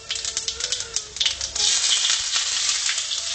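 Whole cumin and fennel seeds crackle in hot cooking oil alongside cinnamon, cardamom and cloves for chicken masala, with dense, close popping and sizzling that builds into a steady hiss in the second half.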